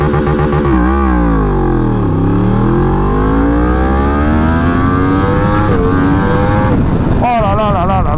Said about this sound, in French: Premier enclenché, tu débrayes à fond. Accélérateur à fond.